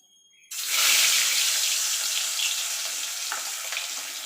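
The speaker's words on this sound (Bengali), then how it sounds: "তেলটা ভালো করে গরম করে নিয়েছি। এবার মাছ একটা একটা করে ছেড়ে দেবো।" Boal fish pieces are dropped into well-heated oil in a pan, and a loud, bright sizzle bursts in suddenly after a quiet moment. The sizzle then holds steady and close, with no talking.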